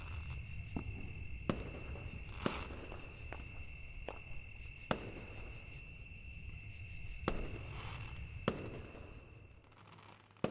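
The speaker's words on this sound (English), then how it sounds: "the sound of the first rocket ascending, its explosion painting a circular pattern in the sky" Fireworks rockets in a visual novel game, a series of distant sharp pops and crackles over a steady whistling hum and insect-like chirping, quiet overall.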